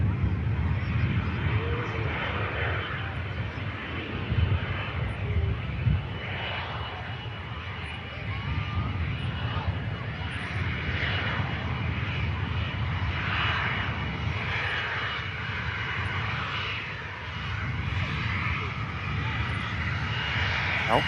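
A VistaJet Cessna Citation XLS business jet lands at Manchester Airport with its bucket thrust reversers deployed, a steady broadband engine roar holding for about twenty seconds at moderate distance, with faint voices underneath.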